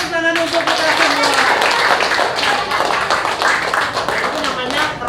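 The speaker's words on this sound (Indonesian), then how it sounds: "Oke, tepuk tangan untuk kita semua." Class of elementary school pupils clapping together after a cross-crawl movement exercise, a dense burst of hand claps filling the room, with a voice speaking over the start.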